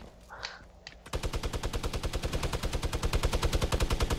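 Sustained automatic gunfire from a Fortnite battle royale match on Xbox One, a rapid steady burst of loud shots starting abruptly after a quieter moment and hammering on without pause.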